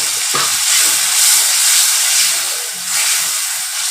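Water poured into a hot pan of okra bursts into a loud, steady, broadband sizzle and steam hiss that swells and eases over a few seconds, with faint stirring knocks underneath.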